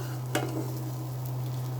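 Raw rice for pulao frying in a hot pan, a steady low sizzle with a soft stirring scrape near the start, close and moderately quiet, no voices.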